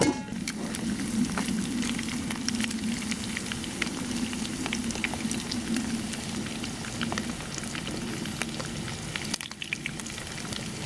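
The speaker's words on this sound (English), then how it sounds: "So you can fry them and they will turn brown." Pork steak frying in hot oil, a steady dense crackling sizzle that holds at an even level throughout, close and continuous with no talking.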